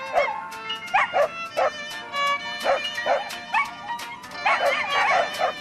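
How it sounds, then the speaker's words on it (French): A German shepherd gives a run of short, sharp barks and yips mixed with high whimpers. They come in uneven bursts, close and clear, with no talking. "Hitler est lié par un sentiment très fort envers sa chienne Blondie, berger alsacien."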